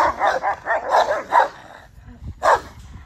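Several dogs at a home with a luxury dog house bark in repeated bursts, loud and close, with a short pause before one last bark.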